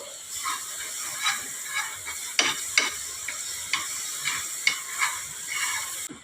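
Butter going into a hot pan for a bread sandwich, a soft steady sizzle and frying hiss with a few sharp clicks of stirring or spatula contact, close and moderately loud.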